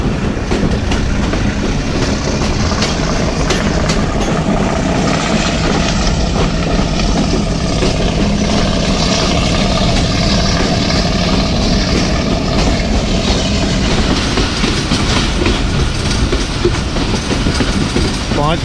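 The Kohat Express passenger train runs along the Golra Sharif to Basal Junction branch line in Pakistan, a loud continuous rumble with rhythmic clickety-clack of wheels on rails and a droning engine, heard from inside.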